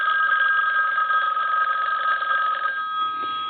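An ITT rotary desk telephone bell rings continuously with a rapid metallic trill, loud and close, for nearly three seconds before cutting off into a faint hum.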